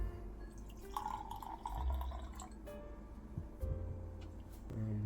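G7 Sauvignon Blanc canned wine poured into a glass, a steady liquid trickle and splash running close up for several seconds with light handling clinks, no talking.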